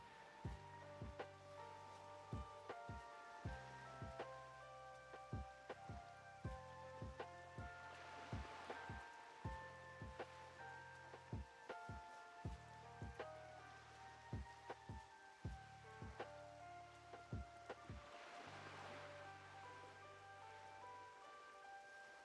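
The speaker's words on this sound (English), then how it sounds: "I really like the vibe right now with the rain" Soft rain patters steadily at night in World of Warcraft over a calm musical backdrop of sustained tones, with scattered sharper drops and no voices.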